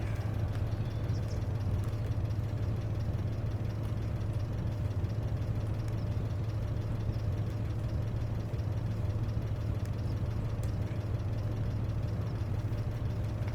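A tractor engine idles steadily in Farming Simulator 25, a low constant drone with a faint rumble, unchanging and alone for the whole stretch.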